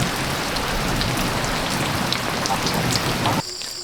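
Steady, dense rain pattering on a bamboo shelter close by, a continuous hiss of drops that cuts off abruptly near the end, leaving quieter background.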